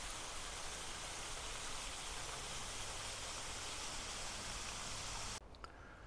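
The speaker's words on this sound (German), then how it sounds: "Kleiner Wasserfall von dem Bach gerade." A small waterfall on a mountain stream near the Ochsenberg by Oberstdorf, rushing in a steady, close, broadband roar that cuts off abruptly near the end.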